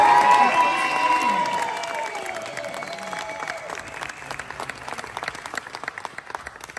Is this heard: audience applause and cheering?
yes